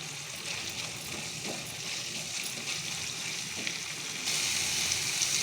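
Jackfruit seeds roasting in a pan with ground spice powder give a steady, close sizzle and crackle, with a brief stir in the middle and the frying turning a little louder and brighter near the end.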